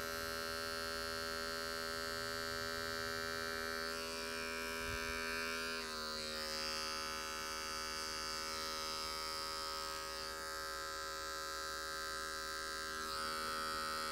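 An electric hair clipper runs steadily over a comb behind the ear during a business cut on fine hair, a close, continuous buzzing hum with slight shifts in tone as it moves, and no talking.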